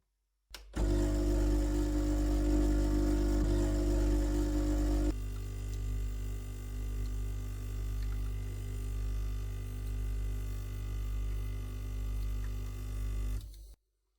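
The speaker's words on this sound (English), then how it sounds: "I don't know what it is, you guys, about the sound of a coffee machine." An espresso coffee machine runs with a steady, loud mechanical hum and buzz, rougher and fuller for the first few seconds, then settling into a slightly quieter continuous drone until it stops abruptly.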